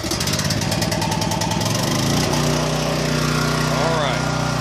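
A Champion dual fuel 9000 watt propane generator, brand new, cranks and fires up, then settles into a loud, steady engine drone close by.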